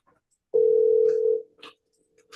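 A single steady phone tone while a call is being placed, one clear, loud, unbroken beep lasting about a second, then fading into faint clicks and quiet line noise.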